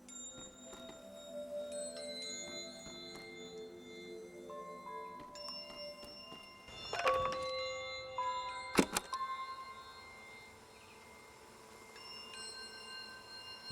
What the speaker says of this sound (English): Chimes.